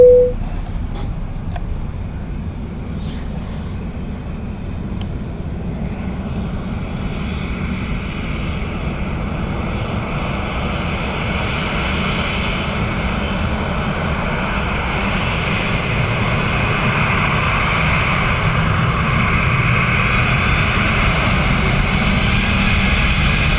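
An airliner's engines at Dublin Airport give a steady, loud, broadband roar with a low rumble that holds for the whole stretch, without any speech.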